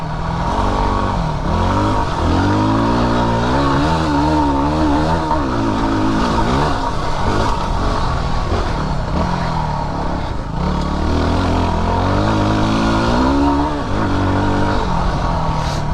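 A Yamaha WR250R dual-sport motorcycle engine pulling in third gear on a fire road, loud and close with a continuous strained drone that rises and falls in pitch as the throttle changes, with no talk.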